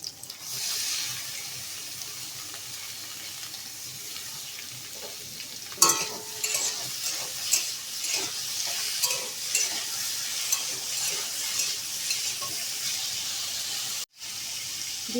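Pieces of pointed gourd and potato frying in a pan, a bright continuous sizzle with stirring scrapes, sharper after a sudden surge near the middle, then a brief cutout before the hiss returns.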